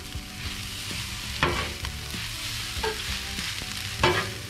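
Cooked rice heats on a Blackstone griddle with a soft continuous sizzle, broken by several sharp scraping stirs of a spatula on the flat-top, close and moderately quiet.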